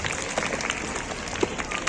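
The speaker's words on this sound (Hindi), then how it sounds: "तालियां तो उनके लिए बनती हैं।" Applause greets the woman mayor at a teachers' award function and science fair, a fairly steady patter of clapping from a hall audience with voices mixed in underneath.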